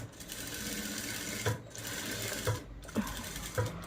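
A sewing machine stitches an aari work blouse, running with a steady close whir broken by soft thumps as the needle cycles.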